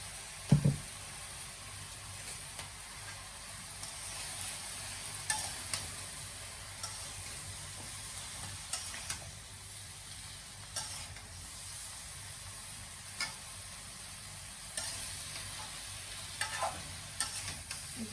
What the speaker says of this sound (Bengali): একসাথে মিশিয়ে নিলাম